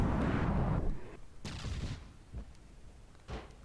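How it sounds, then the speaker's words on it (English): Missiles slam into targets during a King of the Hill championship battle in a video game, a loud rumbling blast up front followed by a few sharper, scattered explosion bursts fading out. "And missiles coming in here"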